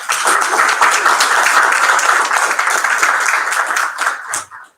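Sustained applause from an audience welcoming award recipients at a 2019 university chancellor's awards ceremony, steady dense clapping for over four seconds before tapering off quickly at the end.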